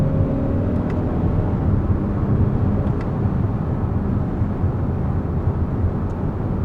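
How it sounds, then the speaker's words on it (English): A 2020 Hyundai Palisade accelerates after a downshift into a lower gear, heard from inside the cabin as a steady, rising engine and road drone with no talk. "So let me put into the lower gear, into 5th, into 4th, into 3rd, and let's see how the transmission does."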